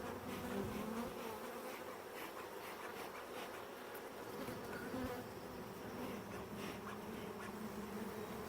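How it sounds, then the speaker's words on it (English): A steady, dense buzzing of many honeybees at an open hive, close and continuous throughout, with faint rustling beneath. "that's some hard-working, happy bees"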